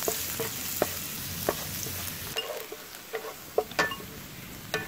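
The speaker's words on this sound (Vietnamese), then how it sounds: "Để lửa lớn phi thơm." Minced garlic and shallots sizzle over high heat in a pan with a steady frying hiss, punctuated by light stirring clicks and occasional pops.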